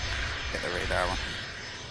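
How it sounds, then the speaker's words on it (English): A Learjet 60 arriving from Cologne at Manchester Airport gives a steady jet-engine roar, moderately loud, with someone talking over it. "Aircraft coming in from Cologne. Learjet 60. Pan Aviatic."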